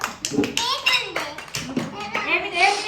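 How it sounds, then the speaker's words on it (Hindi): Young children clapping in a classroom for a classmate, short bursts of hand claps mixed with kids' chatter and an adult voice speaking over them. "इनके लिए भी ताली बजाओ।"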